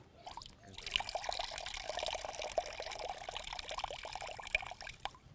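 Fresh coconut milk wrung from grated coconut meat through cheesecloth, dribbling and trickling steadily into a container for about five seconds, close and fairly quiet, with no voices.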